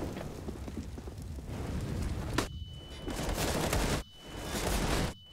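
Rapid bursts of gunfire in the video game Counter-Strike at a professional match, loud and dense, with brief pauses between volleys.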